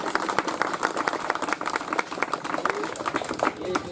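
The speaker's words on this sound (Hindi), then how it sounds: "ये जो जोरदार तालियां हैं हमारे प्रधान साहिबा के लिए होनी चाहिए।" Enthusiastic audience applause at a political gathering, dense continuous clapping with crowd noise and voices mixed in, moderately loud throughout.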